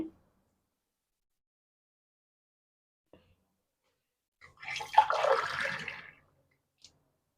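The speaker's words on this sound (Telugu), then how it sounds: "వాటర్ కొంచెం కొంచెం పోసుకోవాలి" Water pours in a short, steady burst for about a second onto ground rice, mid-loud against quiet surroundings, with a few faint taps before and after.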